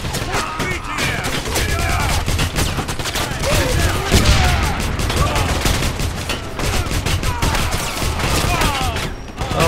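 Rapid gunfire from the Wolfenstein video game, dense overlapping shots and bursts filling the whole stretch at steady loudness, with a voice talking over the shooting.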